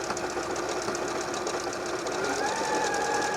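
A Bernette b38 sewing machine running a utility stitch with back-and-forth motion, giving a fast, even mechanical whirring and rapid ticking that stays steady and close throughout.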